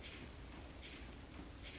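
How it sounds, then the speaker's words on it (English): Three soft, gritty shaking bursts of sea salt, evenly spaced, each a brief hiss like a shaker, heard alone and fairly quiet. "that's the sea salt. That does sound like a shaker"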